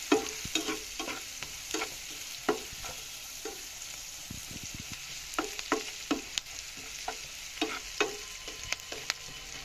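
Radish greens sizzle gently in a pan while a utensil stirs them, sending out repeated sharp scrapes and clacks against the metal over a low, continuous frying hiss.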